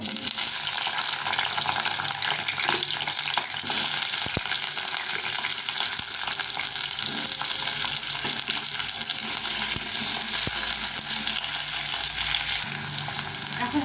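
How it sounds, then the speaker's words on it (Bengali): Potatoes fry in oil in a pan, a loud continuous sizzle that persists unbroken with occasional stirring scrapes. "প্রথমে আলুটা দিয়ে দেবো আলুটা ভেজে নেব"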